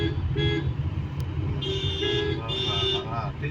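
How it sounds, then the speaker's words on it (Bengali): A car horn sounds in two sustained honks from inside a moving car, with people talking throughout and low road rumble underneath. "হর্ন বাজাতে বাজাতে চলো"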